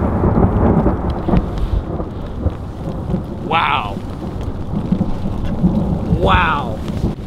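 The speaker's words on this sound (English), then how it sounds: "That was the loudest thunder I've ever heard in my life." Heavy rain pours steadily in a forest during a storm, with loud rolling thunder rumbling throughout and a couple of brief sharper noises rising above it.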